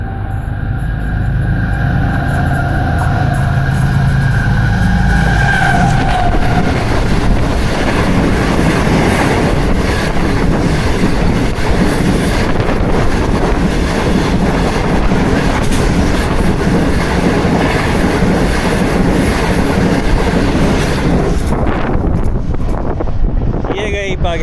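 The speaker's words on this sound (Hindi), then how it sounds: "ये आ रही है आपके सामने पाकिस्तान की प्रीमियम ट्रेन।" Pakistan's premium train, the 6 Down Green Line from Margalla bound for Karachi, roars through Jung Shahi station with a loud, continuous rumble and clatter of wagons, wind buffeting the microphone and a voice speaking early on.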